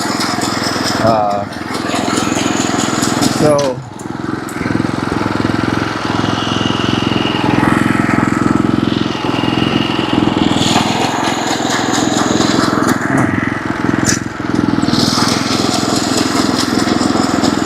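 A mower cutting bent grass at a 1.7 mm height of cut runs loud and steady throughout, with a constant engine drone and brief dips, while someone talks over it.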